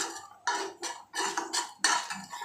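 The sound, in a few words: spoon stirring black urad dal kali in a pan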